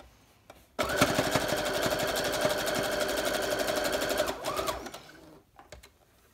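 A sewing machine stitches fabric onto a wrapped bohemian journal cover, a close, steady rapid mechanical chatter that starts abruptly, runs about four seconds, then slows and stops.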